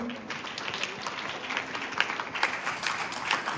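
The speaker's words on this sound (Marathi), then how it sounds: "टाळ्या वाजायच्यासाठी" Audience at a Shivaji Jayanti lecture clapping together, a fairly faint, steady patter of applause from many hands that continues without pause.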